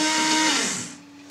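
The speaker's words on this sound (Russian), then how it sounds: "Отправляем сюда ванильный сахар и все это перемешиваем." Blender-like whirring as vanilla sugar is mixed into a homemade Baileys-style liqueur mixture: a steady buzzing drone with a faint whine that fades after about a second, close and alone.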